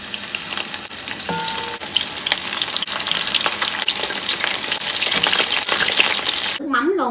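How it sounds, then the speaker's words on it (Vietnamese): Vietnamese spring rolls (chả giò) deep-frying in hot oil give a steady, dense sizzle and crackle that runs close and loud throughout, with a brief stir near the start and a short clatter at the very end. "Chiên chả cá xong giờ mình sẽ chiên chả giò luôn."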